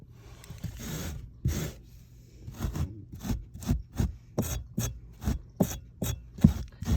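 An Uproot Cleaner Pro pet hair remover scrubbing dog hair from a surface that was just vacuumed with a shop vac, heard as a string of short, close rasping strokes that gradually speed up into a steady back-and-forth rhythm.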